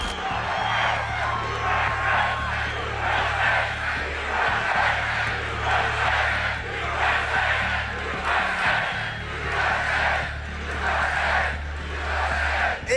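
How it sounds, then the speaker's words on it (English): A large political rally crowd cheers and roars continuously, a dense wash of many voices swelling and dipping in waves. "This is a big, beautiful crowd."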